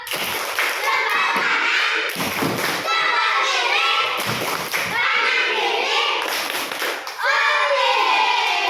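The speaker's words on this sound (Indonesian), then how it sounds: "tepuk jempol dulu buat kita semua" A school class of children chants the tepuk jempol thumb-clap routine in unison, their young voices rising and falling in bursts, with soft claps and thumps marking the rhythm.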